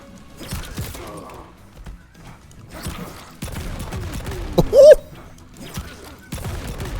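Gunshots and combat effects from the fighting video game Mortal Kombat 11, a busy series of sharp cracks, thuds and clanks with a brief whistling tone, fairly loud and close, no talking over them.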